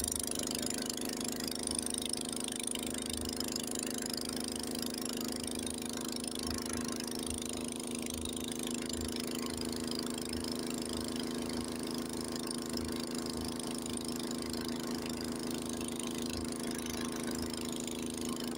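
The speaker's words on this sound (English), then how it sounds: "Oh, the engine's laboring a little bit." A Honda HS80 snowblower engine drones steadily throughout, low and continuous with a slight rhythmic throb, straining under load while clearing snow; no voices.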